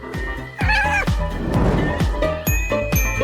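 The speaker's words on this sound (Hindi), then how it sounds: "तुम दुनिया में सबसे अच्छी बिल्ली हो।" A cat gives a couple of clear, loud meows close by, with short tinkling chimes and soft knocks around them.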